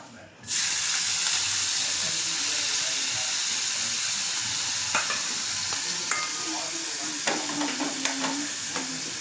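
Chopped onions dropped into hot oil in a home kitchen, bursting into a loud, steady sizzle with spattering and scraping stirs toward the end, close and continuous with little talk.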